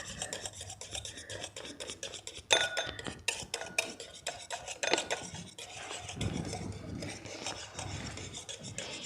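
A hand whisk beats thickening homemade mayonnaise in a bowl, giving a continuous close scraping and rasping with quick metallic clinks against the bowl. The rhythm is steady and fast, with no voices.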